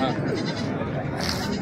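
Goats bleat amid the dense crowd noise of a busy goat market, wavering calls mixed under constant chatter and background bustle.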